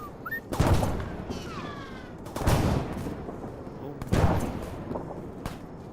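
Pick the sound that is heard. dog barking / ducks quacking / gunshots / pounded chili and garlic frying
gunshots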